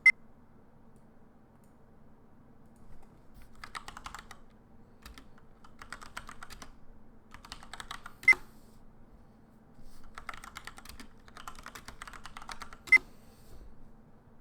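Computer keyboard typing in quick bursts of clicks separated by short pauses, close and fairly quiet, with a couple of sharp louder key taps standing out.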